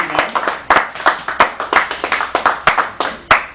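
An audience at a library performance gives a short round of applause. A few dozen sharp claps in a quick, uneven rhythm sound close and loud, with no voices over them.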